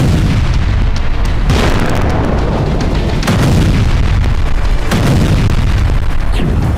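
A dense, continuous rumble of loud booms and blasts in Kharkiv, with several sharper explosive bursts standing out over a roaring background.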